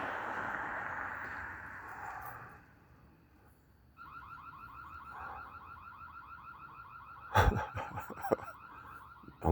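Wailing siren with a rapid warbling pattern, moderately distant and steady for several seconds at night near an intersection, followed by a short burst of louder clattering noise.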